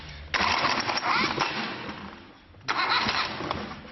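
A boat's diesel engine cranks and catches twice, each start bursting into a loud, rough, close chugging rumble, with a dip between the two attempts as the engine falters and restarts.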